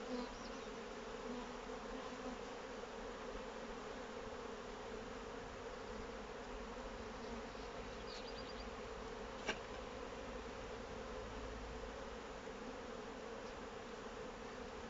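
A dense, steady hum of honey bees buzzing around the hives during a honey harvest, many insects swarming close by without a break.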